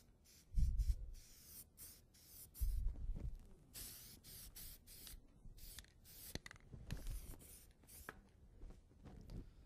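Spray paint hisses onto a wood-turned bowl in a series of short, sharp bursts, some rapid and some spaced apart, mixed with soft low thumps and rubbing.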